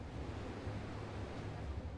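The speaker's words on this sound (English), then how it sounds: "That raging torrent is intentional." Torrent of water released down the Oroville Dam spillway from Lake Oroville, a dense, constant roaring rush with heavy low rumble, loud and unbroken throughout.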